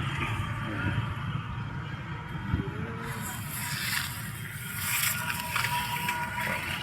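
Broad, steady rushing of the swollen Marikina River in flood after nonstop rain, a continuous wash of water noise with faint scraping and splashing, heard close and fairly loud with no talking.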